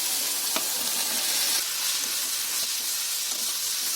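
Okra hits a hot pan seasoned with turmeric and chili powder, giving a loud, steady, close sizzle with faint stirring clicks and no speech.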